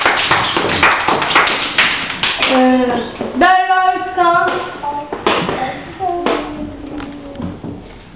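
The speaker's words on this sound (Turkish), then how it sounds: "Alkış Ece'de." Five-year-old children in a kindergarten English colours lesson clap in quick bursts near the start and again later, with young voices and a teacher talking over and between the claps.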